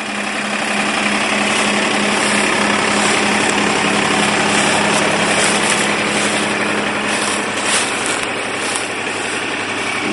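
The engine of a Kubota RTV 900 utility vehicle runs steadily and loudly close by on a night ride, a constant droning rumble with some vibration and faint ticking over it.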